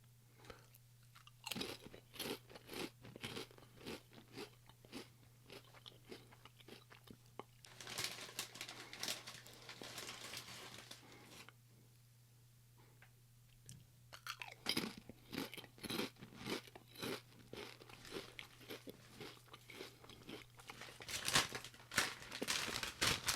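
Crunching and chewing of salt and vinegar crinkle cut chips, close up, in repeated bursts of crisp bites with short quiet pauses between, over a steady low hum.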